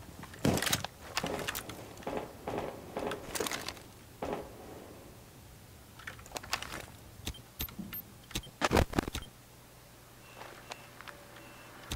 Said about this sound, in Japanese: リロードするぞ。